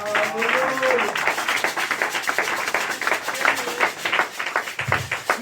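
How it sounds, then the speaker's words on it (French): A church congregation breaks into lively applause during an evangelical service in Paris, dense clapping and scattered voices rising together and holding steady, fairly close and loud. "Acclamez pour la gloire de l'Éternel."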